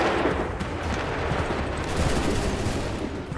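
A continuous roar of musket volley fire in an Assassin's Creed III Bunker Hill battle, dense overlapping shots forming a steady loud barrage with no clear gaps.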